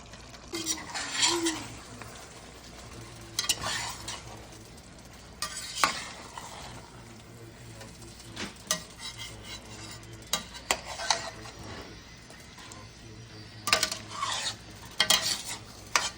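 A spoon scrapes and stirs potatoes and cauliflower with tomatoes in a pan for aloo gobi. Intermittent scraping strokes come in bursts with light clinks against the pan and a faint background sizzle, and there is no talk.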